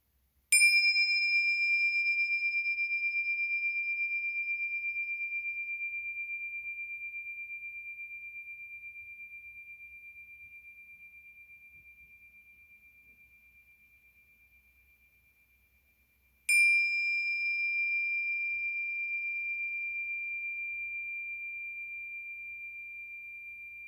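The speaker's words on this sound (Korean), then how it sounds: "모든 생각 내려놓으시고 종소리에 집중해 봅니다" A meditation bell is struck twice, each strike a clear pure ring that lingers and slowly fades over many seconds, alone in near silence with no talk.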